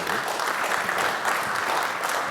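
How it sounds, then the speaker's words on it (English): Steady applause from a conference audience after a talk on FinOps and IT asset management, dense clapping holding evenly throughout with no voices on top. "let's round of applause for Brian and Keith."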